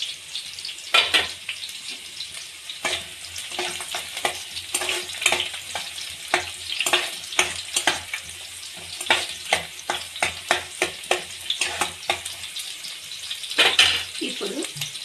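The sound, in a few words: onions and green chillies frying in pan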